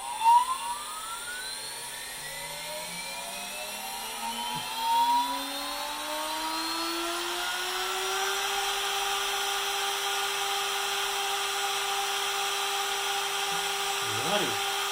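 A CNC router spindle spins up to 24,000 RPM for test cuts on a guitar fretboard, its whine climbing steadily over several seconds, then holding a loud, sustained high-pitched tone with faint shop noise underneath.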